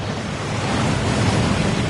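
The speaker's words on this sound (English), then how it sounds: "That waterfall washes away all enchantments." A waterfall inside the Gringotts vaults in the Hogwarts Legacy video game gives a steady, loud, hissing roar of rushing water that fills the whole span without a break and with no voices.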